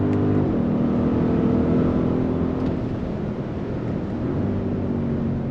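Engine of a 2025 Audi SQ7 heard from inside the cabin, a steady, close rumble whose pitch climbs and drops as the SUV accelerates and shifts quickly through gears.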